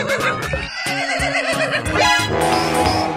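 A horse neighing loudly in a long, shaky whinny that rises and trails off, close and clear, followed by a brief snort.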